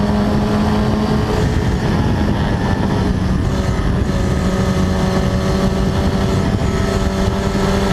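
Historic Formula Ford race car recorded on board at Snetterton, engine droning loud and steady with sustained harmonic whine, slight pitch shifts through corners, wind roar constant throughout.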